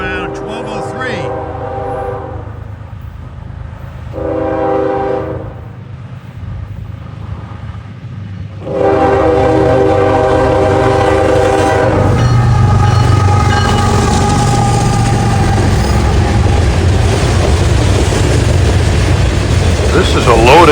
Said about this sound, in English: This is a loaded ballast train.